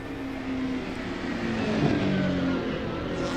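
SEAT Toledo touring car engine at pre-season testing for the 1995 World Touring Car Series, a steady droning note that swells and climbs slightly as it revs, moderately loud with no voices.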